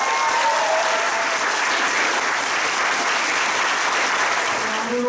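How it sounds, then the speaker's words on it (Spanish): A strong, continuous round of applause from an audience at a tribute ceremony honouring a professor. The clapping stays loud and dense throughout, with faint crowd murmur mixed in. "para quien pedimos un fuerte aplauso"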